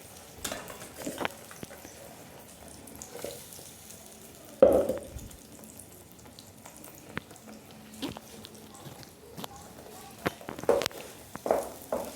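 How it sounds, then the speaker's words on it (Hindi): Masala with tomato-ginger paste fries in a pan for spinach curry, a soft, steady sizzle with occasional stirring scrapes and clatters, close and fairly quiet with no talk. "तो मसाले को भून लेंगे।"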